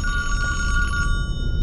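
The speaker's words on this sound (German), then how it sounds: "Sorry für das Telefon, das müsst ihr jetzt noch ein Weilchen ertragen." A telephone bell rings inside a cabin in the video game Friday the 13th Virtual Cabin, a steady bright electronic trill that carries on without pause and then cuts to a thinner tone near the end, with no talking.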